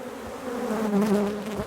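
Honey bees buzzing close at a hive, a steady droning hum that swells slightly in the middle with no voices.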